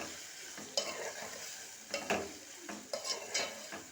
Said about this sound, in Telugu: ఇలా కలుపుకోవాలన్నమాట క్యాప్సికమ్ మొత్తం నూనెలో